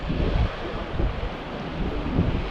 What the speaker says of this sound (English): the wind is coming my way, so I'm going against the wind